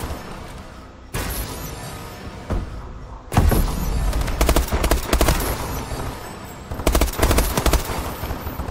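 Rapid automatic gunfire from Call of Duty: Advanced Warfare comes in loud, dense bursts of fast shots with brief gaps between volleys, close and dominant throughout.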